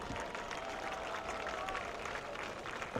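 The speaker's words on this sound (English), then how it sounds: "Big round of applause for the Riverview Kilty Band." A high school football stadium crowd applauds the Riverview Kilty Band at a Manatee versus Sarasota Riverview game, with steady, faint, distant clapping and crowd noise throughout.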